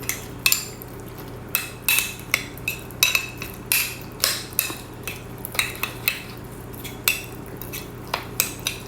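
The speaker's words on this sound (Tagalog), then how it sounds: "Yung mga sangkap na to, paghalu-haluin lang natin." A utensil clinks sharply against a bowl while mashed eggplant is stirred with two eggs and tuna for tortang talong, the taps coming in a quick irregular rhythm, close and fairly loud, over a faint low hum.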